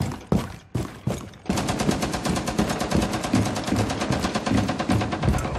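Gunfire in Rainbow Six Siege: a few separate loud shots, then a long, sustained burst of rapid automatic fire, close and continuous, with no talking.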